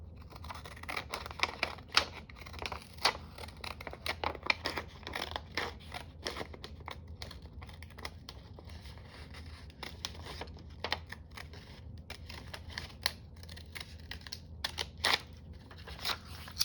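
Decorative-edge Fiskars scissors cut paper in a steady series of small, close snips and crisp clicks, continuing evenly for a long stretch with no talk.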